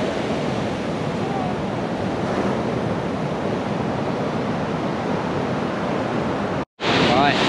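Ocean waves at Santa Teresa Beach, Costa Rica, wash in a steady broad rush mixed with wind buffeting the microphone, dropping out briefly near the end before resuming.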